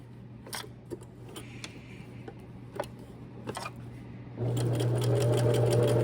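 A sewing machine running a gather stitch around a sample piece. Light clicks and handling come first, then the machine starts with a steady, loud, rapid mechanical whirr and ticking.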